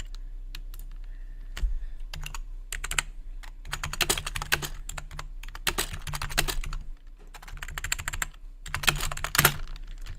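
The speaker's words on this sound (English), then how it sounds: "Nope, we're just typing." Typing on a computer keyboard, close and clear: irregular bursts of sharp key clicks and clacks with brief pauses between runs, continuing throughout.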